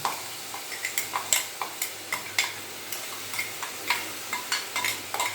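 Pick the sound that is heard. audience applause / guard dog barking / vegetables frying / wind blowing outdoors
vegetables frying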